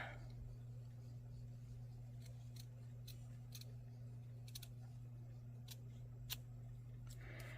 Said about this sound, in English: I'm just going to cut around like so